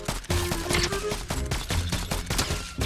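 Rapid gunfire in Fortnite, a dense fusillade of sharp repeated shots in quick bursts, loud and close, with scattered game effects and no clear talk.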